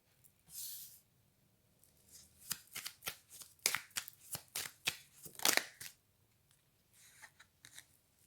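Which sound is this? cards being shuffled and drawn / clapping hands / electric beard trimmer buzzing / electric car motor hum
cards being shuffled and drawn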